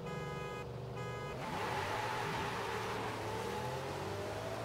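A Bugatti in the racing video game Forza Horizon 5 gives a loud, steady engine roar that climbs as it accelerates. A short beeping tone sounds near the start.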